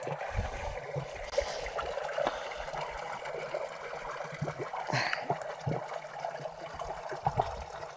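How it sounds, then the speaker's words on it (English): A small mountain stream in the Italian Alps flows in a steady, gentle trickle and burble, close by and continuous, with no voices. "How about this stream of water here?"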